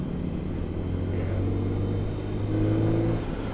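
A Lifan KPM 200 motorcycle accelerates to overtake on the road, its engine drone holding steady, then rising in pitch and swelling louder toward the end, with wind rush throughout.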